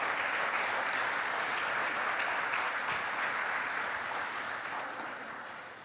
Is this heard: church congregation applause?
yes